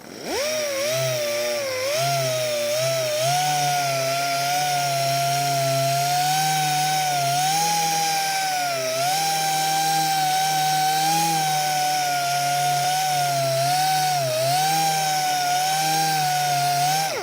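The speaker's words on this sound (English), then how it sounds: "It comes in and sands these real small marks or scratches." A small spot sander works a soft, thin automotive clear coat, giving a steady, loud high-pitched whine with a slight wavering pitch that runs continuously and alone, close up, throughout.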